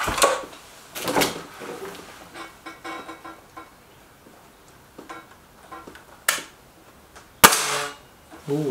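An air rifle fires a pellet at a target in a Webley Xocet versus Stoeger RX20 S2 comparison: a single sharp, loud crack stands out, with other clicks and knocks of handling scattered around it and no talking.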